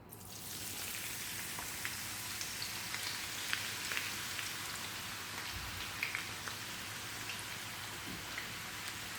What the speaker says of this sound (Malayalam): ഇങ്ങനെ ബാക്കിയുള്ളതും വറുത്തെടുക്കാം.